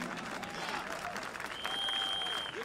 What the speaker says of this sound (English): That deserves a applause from you.